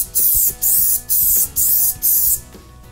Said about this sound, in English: contact adhesive spray from the outside, perimeter bond it